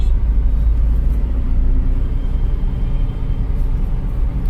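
A car in a night driving lesson gives a steady, loud low engine rumble with road noise as it gains speed, and no clear rise in pitch.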